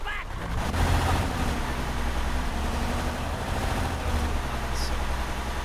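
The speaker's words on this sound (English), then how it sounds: "This truck engine is so loud." A truck engine in the military video game Antistasi runs steadily and loudly throughout, a constant low rumble with no pauses, close and dominant in the mix.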